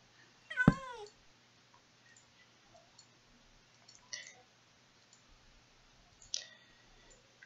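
A cat in Minecraft gives one loud, clear meow near the start, followed by fainter clicks and two softer mewing chirps later against near silence.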